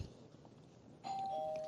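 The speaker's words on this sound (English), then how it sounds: "ring the doorbell" A doorbell rings once with a clear electronic ding-dong chime, loud and close, after a second of quiet indoor room noise.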